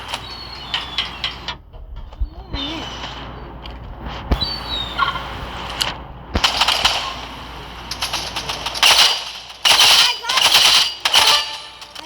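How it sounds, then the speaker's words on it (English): Burst rifle gunfire in an online shooter game: clusters of sharp rapid shots crackle in bursts, some loud and close, mixed with other game effects and brief voice chat. "I gotta go with a burst rifle."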